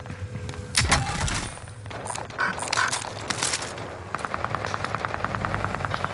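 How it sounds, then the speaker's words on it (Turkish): A helicopter in Warzone Rebirth quads: a few sharp in-game bangs and scattered noises come first, then a regular rotor thump settles in over the last couple of seconds at moderate volume. "Oo helikopter."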